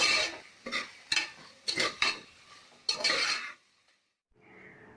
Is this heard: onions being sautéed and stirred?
yes